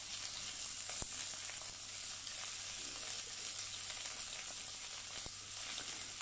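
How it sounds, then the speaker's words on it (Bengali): Small marinated chicken pieces fry in a pan with a continuous, even hiss and crackle. Two brief sharp knocks break through the sizzle. "তো আমি চিকেনটা ভেজে এটা নামিয়ে রেখে দেবো।"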